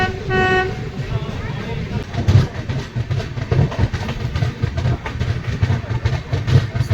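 A train pulling out of Guskara station sounds a short harmonic horn blast at the start, then rolls on with rhythmic rumbling and clatter of wheels that stays loud and steady.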